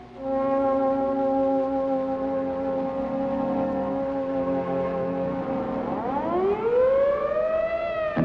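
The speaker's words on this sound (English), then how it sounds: "as directed by the mayor, the siren sounds once more" A civil defense siren wails in a long, steady, loud tone, then its pitch sweeps upward as it winds up near the end.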